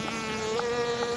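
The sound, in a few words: honeybees buzzing in a bee hut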